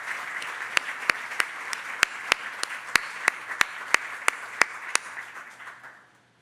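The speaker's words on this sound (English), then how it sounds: "I think John deserves a round of applause for all the organization of this meeting." Conference audience applauding the meeting's organizer, a steady wash of clapping with sharp individual claps standing out near the microphone, fading out after about six seconds.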